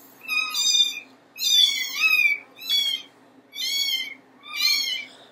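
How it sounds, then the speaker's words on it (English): Cats meow repeatedly, five clear, loud, drawn-out calls spaced about a second apart against a quiet background. "You got a nice view of the cats here."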